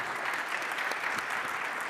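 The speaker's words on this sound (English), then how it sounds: "So please give a warm round of applause for our expert panelists." A short burst of warm audience applause for expert panelists on a conference stage, steady and full throughout.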